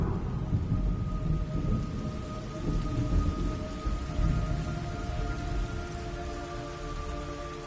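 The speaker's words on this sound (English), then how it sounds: "It's raining blood." Steady rain pours down in the video game Snake Eater with a constant hiss, while low rumbles roll beneath it and a faint tonal hum lingers in the background.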